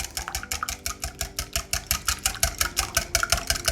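A whisk beats the liquid ingredients for red velvet cupcake batter in a bowl, a fast, even run of rhythmic clicking strokes heard close up and alone.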